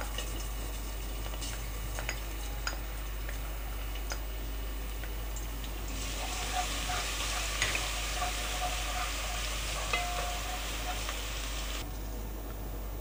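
Garlic ginger paste hits half a cup of hot oil in a pan, a steady broadband sizzle swelling midway and holding for several seconds before easing, close and even.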